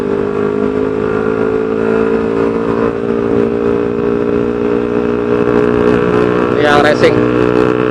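A Honda CB150R motorcycle fitted with a Spartan GP aftermarket exhaust idles nearby with a steady, deep, even drone. A person speaks briefly over the engine near the end.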